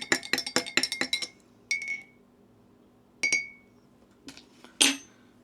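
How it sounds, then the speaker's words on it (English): A metal spoon clinks rapidly against a cup while stirring black coffee, a quick run of bright taps followed by a few separate ringing tings. "You can't stir a drink and not ting on the side."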